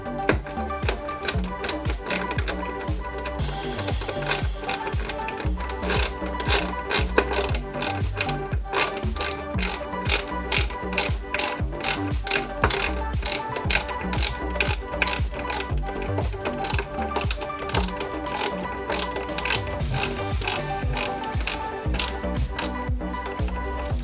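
Screws being driven into a Ghostbusters Ecto-1 model kit, sounding as a dense, continuous run of rapid mechanical ratcheting clicks, close and steady throughout with no talking.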